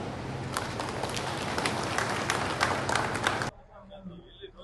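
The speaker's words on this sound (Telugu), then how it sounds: "అందరూ కూడా మీరు జోరుగా చప్పట్లు కొట్టాలి" An audience at a free eye medical camp in a village applauds, a dense burst of clapping for about three and a half seconds that cuts off abruptly into quiet room sound.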